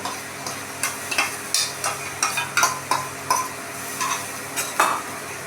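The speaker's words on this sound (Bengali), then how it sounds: "এবার ভালো করে আমরা এটাকে নাড়িয়ে নেব" A spoon stirring yogurt paste in a hot oiled kadai for paneer butter masala, with repeated scraping strokes at an irregular rhythm over a soft sizzle, close and clear.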